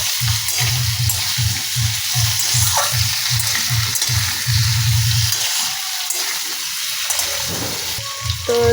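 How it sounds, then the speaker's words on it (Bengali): Potatoes sizzle in hot oil in a home kitchen pan for a vegetarian paneer curry, a steady close crackle broken by repeated stirring scrapes and a brief splash of water near the end. "তো এবার আলু দিয়ে দেবে, আলুটা ভেজে নেবে।"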